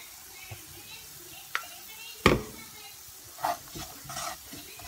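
Garlic curry with asafoetida stirred in hot oil, a few scraping spoon strokes and soft sizzling bursts against quiet background, near and intermittent.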